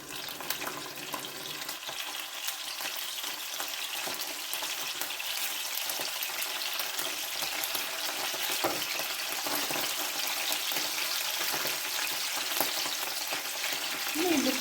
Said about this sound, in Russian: И в разогретое масло я кладу сыр.